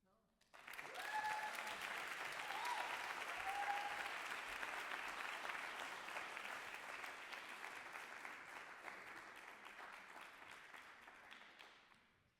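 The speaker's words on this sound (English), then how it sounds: "Give Miss Reverend Smith another round of applause" Sustained audience applause at a spoken word and poetry night, rising quickly and holding steady for about ten seconds before tapering off, with a few brief voices or whoops early on.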